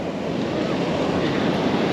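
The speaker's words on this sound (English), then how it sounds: "those waves are amazing today" Ocean surf at Panama City Beach, Florida, a dense, loud, continuous wash of breaking waves blended with wind buffeting the microphone.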